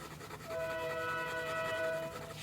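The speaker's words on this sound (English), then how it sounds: "That would be the train going past." A train passes beside the tracks with a steady sustained horn tone over a rumbling background, heard from a nearby indoor spot with no talking.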